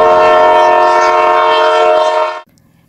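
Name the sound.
train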